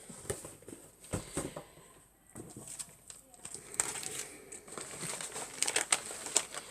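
Paper wrapping crinkles and tears as a package is opened, the crumpling coming in uneven bursts at close range while a person talks.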